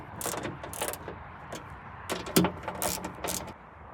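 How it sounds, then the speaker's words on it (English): Ratchet tightening bolts on the trunk lock of a 2013 Kia Ceed, heard as several short bursts of clicking spread across the clip, close and fairly quiet, with no talking over it. "I tightened the bolts, and now here is the contact cable."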